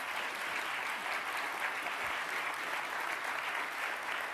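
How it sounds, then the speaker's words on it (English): An audience at a Washington, DC journalists' energy and environment event applauds panelists, an even, full round of clapping from a room of people, steady and moderately loud with no voices on top. "So give them a round of applause."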